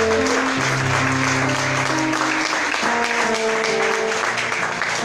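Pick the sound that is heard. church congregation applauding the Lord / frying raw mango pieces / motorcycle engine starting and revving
church congregation applauding the Lord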